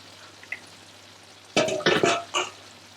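Water poured from a jug into a pot of simmering chana masala, a few short splashy gurgling bursts up close, alone with no talk.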